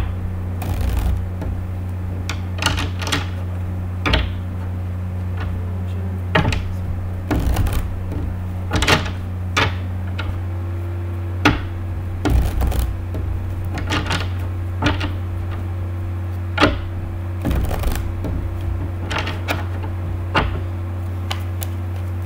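A deck of tarot cards is shuffled by hand, giving repeated crisp riffles and snaps at irregular intervals over a steady low background hum.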